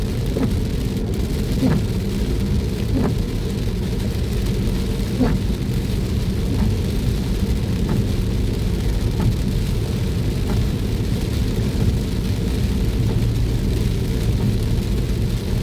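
Continuous steady rain in Ratanaburi, Thailand, with faint periodic ticks, dense and even throughout, with a low rumble underneath.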